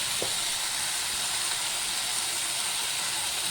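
Chopped banana flower fries in a pan with a steady, even sizzling hiss that runs the whole time, close and fairly loud, with no talking.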